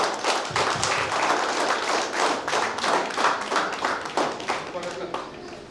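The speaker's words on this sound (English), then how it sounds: "A big round of applause, please." An audience at a Rotary Club of Bengaluru Jayanagar installation ceremony gives the new club president a big round of applause, a dense, steady burst of many hands clapping that carries on for several seconds with a slight fade toward the end.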